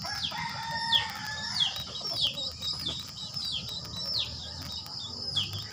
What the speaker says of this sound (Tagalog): Sa ilalim yan yung mga manok.